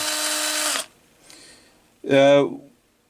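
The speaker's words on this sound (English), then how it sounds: "When you put the drill in, you just have to make sure that it's centered" A power drill whirs loudly for under a second and then cuts off, followed by a short burst of a voice nearby.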